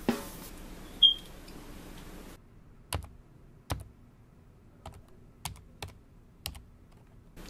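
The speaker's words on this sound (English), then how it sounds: "Oh, I'm sorry I typed slow." Computer keyboard typing, a burst of dense keystrokes at first, then sparse, slow, separate key clicks spaced about a second apart, close and fairly quiet in a still room.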